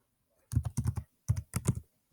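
Fingers type on a computer keyboard in quick, close bursts of crisp key clicks, four short runs split by brief pauses in an otherwise quiet room.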